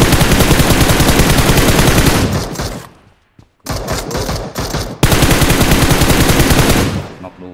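Machine gun fire in the mobile battle royale game PUBG Mobile, loud and sustained rapid bursts that break off briefly midway and then resume just as intensely.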